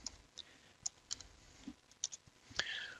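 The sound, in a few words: typing on a computer keyboard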